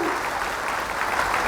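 Dense, loud applause from a large audience at an Allahabad Medical Association event, steady and continuous throughout without pause.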